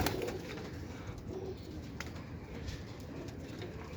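Breeder pigeons cooing in a loft, a soft, low, rolling murmur over a steady background hiss, fairly quiet and close with no talking.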